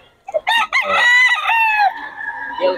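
A rooster crows loudly and close by in one long, drawn-out call, with brief clucks from chickens just before it.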